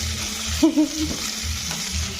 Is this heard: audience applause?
no